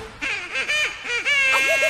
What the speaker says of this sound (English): he led the others with a quack, quack, quack